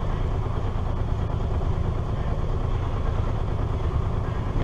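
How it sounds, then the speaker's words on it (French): A constant low mechanical whir of a boat's engine cooling fan ventilating the hold, steady and unbroken, filling the space at close range. "Le bruit que vous entendez, c'est le ventilo du moteur qui refroidit un peu la cale."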